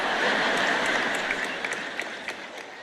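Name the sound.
audience applause, clapping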